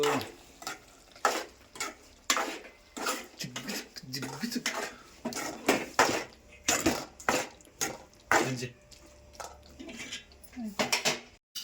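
Chicken curry with vegetables being stirred in a pot in a village kitchen, with repeated metal scraping and clinks of the spoon against the pot in bursts, close and moderately loud, while a voice talks over it.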